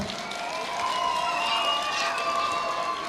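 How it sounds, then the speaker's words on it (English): School audience at a holiday sing-along and town meeting applauds students of the month, giving a steady, moderately distant wash of clapping with faint background voices. "can we get a very appropriate but loud round of applause for your classmates here?"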